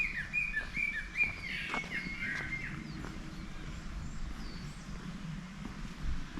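Mountain birds chirp and sing in short bright phrases over a soft outdoor hum, several calls scattered across the clip, moderately distant, in spring at a temple in Seosan, South Korea.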